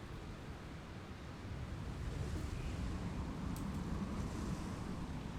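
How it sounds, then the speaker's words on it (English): Steady gusting wind in the video game Journey, a broad continuous rushing roar that swells slightly louder partway through and holds, with no voices. "it is very windy"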